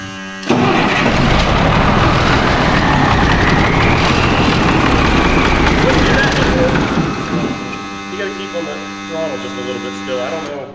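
A diesel truck engine runs loud and steady right after starting, its injection pump freshly retimed. It drops to a quieter, rougher idle near the end.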